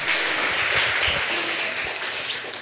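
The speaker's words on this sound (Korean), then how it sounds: "박수 한번 쳐주세요." A church congregation at a revival service gives a short round of dense, loud applause, the clapping filling the room evenly with little talk.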